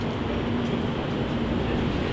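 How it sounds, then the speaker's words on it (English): A train rolls into a station at a Disney resort with a steady, loud rumble and hum that fills the moment, no voices heard. "Come it's our train. First ride of the day."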